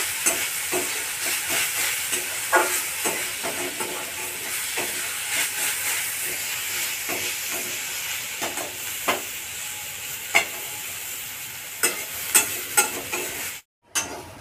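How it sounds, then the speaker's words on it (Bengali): Drumstick (sajna) leaves frying in a pan, a loud continuous sizzle and hiss close up, broken by sharp scrapes and taps of stirring that grow more frequent toward the end. "আমার শাকটা ভাজা ভাজা হয়ে গেছে"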